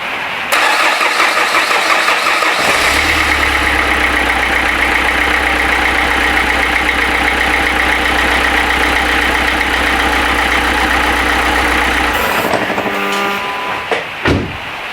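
A Renault Clio III engine, after a faulty pressure regulator was replaced, cranks and catches, then settles into a loud, steady idle that rumbles on before a rattling shift near the end.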